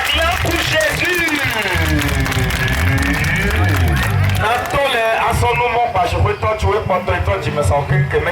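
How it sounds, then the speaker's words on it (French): A church congregation at a Wednesday worship service cheers and claps: loud, dense crowd noise with shouting voices and ringing cries that carry on throughout. "Et tout le monde acclame pour Jésus."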